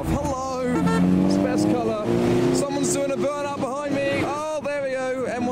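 A sports car engine revs at a car show, loud rising and falling blips with harmonic whine close by, amid crowd chatter and voices in the background.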